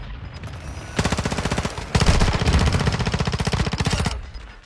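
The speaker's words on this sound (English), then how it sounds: "I'm getting shot from the north." Rapid automatic gunfire from Modern Warfare 2 rattles loudly and close, two sustained bursts of evenly spaced shots, the second longer and heavier, with no talking over it.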